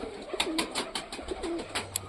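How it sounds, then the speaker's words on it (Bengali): Small pigeons cooing close by in a series of soft, rhythmic coos, several overlapping calls repeating steadily over a light background hum. "পায়রাগুলো দেখো হাতে তালুবন্দি আছে না, ছোট্ট পায়রা একদম।"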